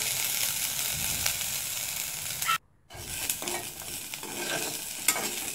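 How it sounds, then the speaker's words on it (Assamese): Bitter gourd frying in a pan for an Assamese dish, a dense continuous sizzle with scraping stirs, cut by a brief silent gap, then sizzling again with occasional ladle clinks. "মই তিতা ভেকুৰীখিনি এতিয়া দি ল'লোঁ। এইখিনি দিয়াৰ পাছত অলপ সময় এনেদৰে ভাজিম।"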